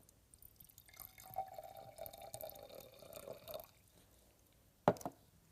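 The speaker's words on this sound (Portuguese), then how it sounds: "Vou começar por depositar alguma água neste gobelet." Water poured into a laboratory beaker during a science experiment, a soft trickling pour lasting a few seconds, then a brief splashy drip or clink near the end, close and fairly quiet with no talk.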